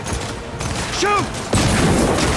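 Gunfire in the Cyberpunk 2077 video game: a loud burst of shots enters midway and sounds busy under game voices, with a rising electronic tone just before.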